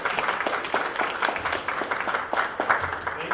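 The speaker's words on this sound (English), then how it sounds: "Give yourselves a big round of applause" A crowd claps at a fraternity-hosted political candidates forum, the applause uneven and rhythmic with individual claps standing out, moderately loud and sustained for a few seconds.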